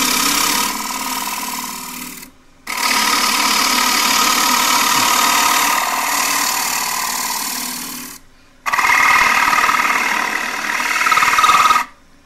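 Gouge cutting a square wooden dish on a lathe as the wall grows thin, a steady loud scraping hum in two long passes broken by brief silences, close up.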